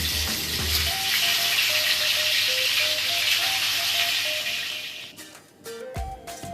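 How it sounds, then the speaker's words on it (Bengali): Rohu fish pieces frying in hot oil in a wok give a steady, dense hiss for several seconds, then the sizzle breaks into crackles and pops while soft background music plays underneath. "তেল গরম হয়ে গেছে মাছটা আমি ভেজে নিচ্ছি আর বেশ লাল করে দু পিঠ ভেজে নেব"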